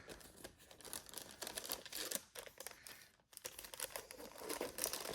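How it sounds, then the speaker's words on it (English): Crinkling and tearing of paper wrapping as items are unwrapped from a gift box, a busy run of close, quiet rustles and crumples with brief pauses, no one talking. "I almost don't want to unwrap it."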